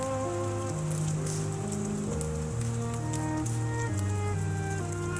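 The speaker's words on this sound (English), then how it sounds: "The rain picks up outside." Steady rain drums on a roof in a dense, continuous patter that stays loud throughout, while a soft, slow melodic instrumental backing plays beneath it.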